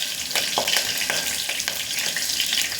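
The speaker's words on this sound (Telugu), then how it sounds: "బాగా వేగుతున్నాయి, రోస్ట్ అవుతున్నాయి." Mutton pieces and green chillies frying and roasting in a pan for mutton curry: a steady, loud sizzle with bursts of crackle and stirring scrapes recurring throughout.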